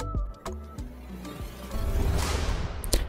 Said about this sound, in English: what we have here basically is a reverse impact sound